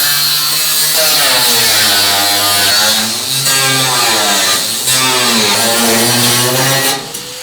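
A power tool cuts rusty sheet metal out of the bedside of a 1978 Ford F-100 pickup, giving a loud, continuous high whine that wavers in pitch as the cut proceeds and stops abruptly at the end.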